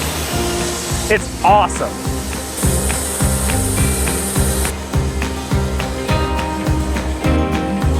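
A machine grinds through a stack of five wooden blocks, a loud rough rasp with shifting pitch and knocks, while a person speaks over it.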